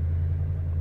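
Steady low diesel rumble from a 2009 Range Rover Sport 3.6 TDV8 turning just under 1500 RPM with a suspected misfire, close and continuous with no voices.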